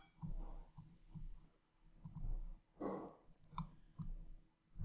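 Computer mouse clicking while working in Fusion 360 CAD software, a series of crisp, close single clicks spaced irregularly over a quiet background.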